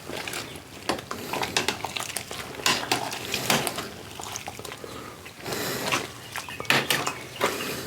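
Vegetables being stirred into a pot of bourbon mash for a seven-root whiskey, sloshing liquid with knocks and scrapes of a paddle against the pot in irregular bursts.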